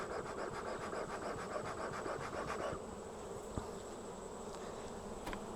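A steady, dense buzzing of many honey bees, close and continuous, with a faint sharp tick partway through.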